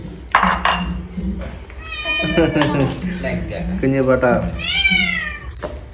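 A house cat meows several times, close and clear, with a long rising meow near the end, while people talk around it and dishes faintly clink.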